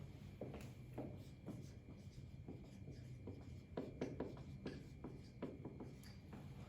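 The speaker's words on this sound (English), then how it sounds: "Let's write that underneath." Faint, close scratchy strokes of writing on paper come in short uneven bursts with small pauses, set against quiet room tone during a math lesson.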